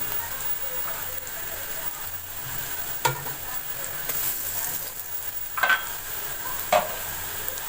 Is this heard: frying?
yes